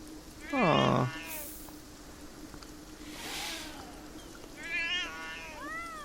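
Hostile alley cats in the video game Beyond Eyes open with a loud, harsh caterwaul. Quieter meows and yowls follow from one or more cats, set against a steady rainy hiss.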